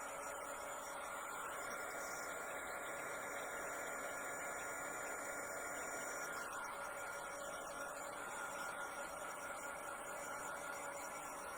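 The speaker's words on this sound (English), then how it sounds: "I'm going to get the dryer out." A hair dryer blows on freshly painted rocks, a steady, even whooshing hum that runs unbroken throughout at moderate loudness with no talking.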